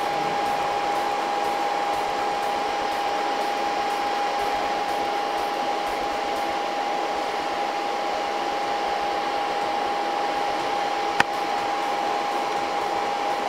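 Cooling fans in a Sony PlayStation 3 (CECHG02) with the yellow-light-of-death fault spin steadily with a constant whine and airy hiss, close and unchanging, with one brief click near the end.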